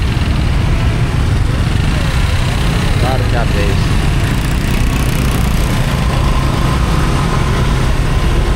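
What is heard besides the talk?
congested street traffic, engines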